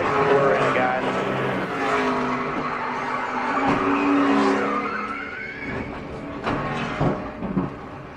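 A NASCAR stock car spins out at Daytona in the 2011 Daytona 500, tires skidding with a long squealing screech over the roar of race engines, loud and continuous throughout.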